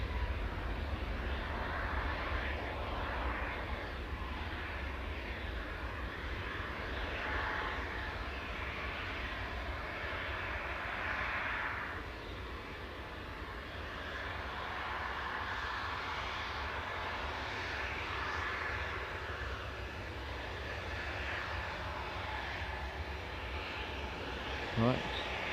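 An aircraft takes off at Newcastle airport with a steady, distant engine roar that holds for the whole stretch, while a voice talks quietly over it.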